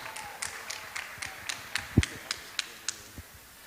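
An audience at a temple festival evening claps in welcome, with a sparse and uneven run of separate claps and taps rather than full applause, close and moderately loud.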